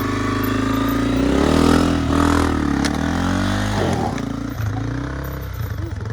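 A heavy adventure motorcycle rides on a forest trail near Colima Volcano, its engine droning steadily and loudly up close with some revving and clattering, without any talk.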